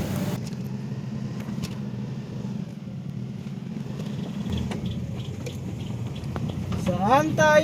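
A vehicle drives slowly along a narrow, tight road, its engine a steady low rumble throughout. Voices talk over it near the end.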